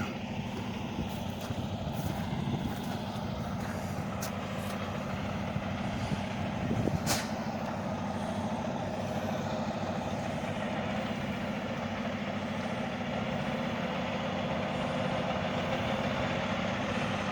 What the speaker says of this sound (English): Wow, big truck, big truck